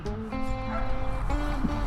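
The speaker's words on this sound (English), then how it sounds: "I like you, puppies." Puppies whimper and yip at a Chevron gas station in Fredericksburg, giving high, tonal whines and short yips over a steady background rumble, fairly close, with no speech.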